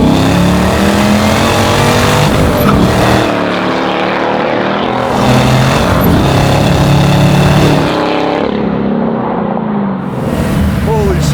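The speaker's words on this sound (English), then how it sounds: "Ah, I love that kind of acceleration." A 650-horsepower supercharged LT4 V8 in a 1968 Camaro restomod with a six-speed manual roars hard under acceleration, loud and continuous from inside, the note rising and dipping through gear changes.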